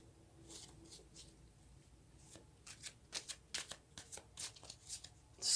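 Tarot cards are handled and shuffled up close. Soft riffling swishes start faint and sparse, then come faster and louder toward the end, with no talking.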